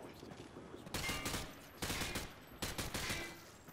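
Bursts of gunfire from Call of Duty Modern Warfare 2, three loud broadband volleys with short gaps between them over a steady low game background.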